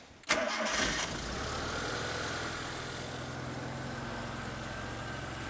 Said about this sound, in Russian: И заводим двигатель.